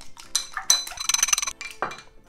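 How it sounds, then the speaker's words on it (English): An egg is lightly beaten in a bowl with a utensil, giving a quick, close run of small clinks and taps against the bowl over about two seconds. "So with the egg, I'm going to beat it first."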